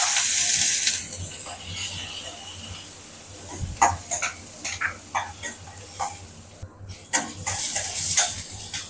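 Onions and curry leaves hit hot oil with a little fennel powder in a pan: a loud hiss at first, then a quieter sizzle broken by irregular spoon scrapes and knocks against the pan.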